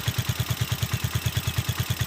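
A motorcycle engine runs close by with an even, rapid thumping beat, each firing pulse distinct and regular, steady in loudness throughout with no talk.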